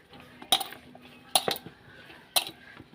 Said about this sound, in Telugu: ఇట్లా కలిపేసుకోవాలండి